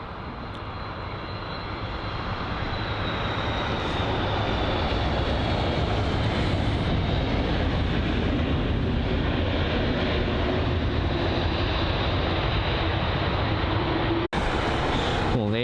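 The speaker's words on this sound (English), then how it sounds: "there's the Qatar A380 heading to Doha" A Qatar Airways Airbus A380 taxis at London Heathrow, its jet engines giving a steady broad roar with a low hum that builds slightly and holds for the whole stretch, close and loud.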